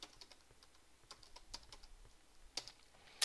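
Keys clatter on a computer keyboard as a command is typed into a terminal, a run of quick, light, irregular clicks at close range ending in a sharper, louder keystroke like hitting enter, with no voices.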